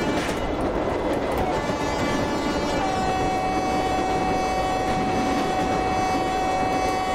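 An Indian Railways express train simulated in the MSTS train simulator game, a loud continuous rumble and rattle of wheels on track with a sustained horn blast entering partway through and holding to the end.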